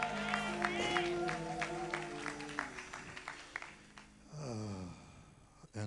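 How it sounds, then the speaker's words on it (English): A church congregation claps in a steady rhythm while voices sing and call out over it. The clapping fades as a single voice carries on. "And while we're clapping and praising God for the first lady of this church, let's thank God for Sister Hires."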